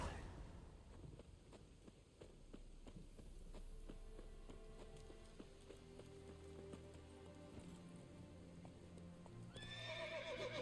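In The Witcher 3, Geralt's horse Roach gallops with rapid rhythmic hoofbeats over a low ambient music bed, ending in a bright whinny near the close.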